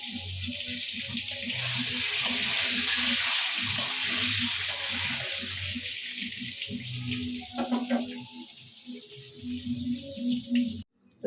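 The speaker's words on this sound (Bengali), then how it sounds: "তো আমার ডিমটা আগে ভেজে নিই" An egg fries in hot oil in a pan, giving a steady close hiss and crackle that eases off, with some scraping and clatter near the end.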